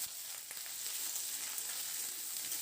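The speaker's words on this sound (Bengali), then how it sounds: "এবার হলুদটা দিয়ে সবজিগুলোকে মিডিয়াম ফ্লেমে খুব ভালো করে নাড়াচাড়া করে লালচে রং ধরা পর্যন্ত একটু ভেজে নেব" Vegetables with turmeric fry on a medium flame, giving an even, close sizzling hiss with a brief stir near the start.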